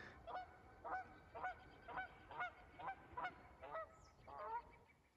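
A pair of Canada geese honking as they fly past outdoors, about nine distinct nasal honks in a steady rhythm, moderately near and clear over a quiet background.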